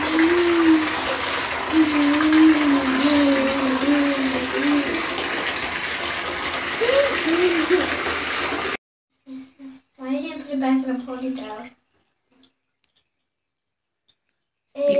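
Water runs steadily into a bathtub for a little girl's bath, a loud continuous gush that cuts off partway through, after which a voice and soft thuds follow.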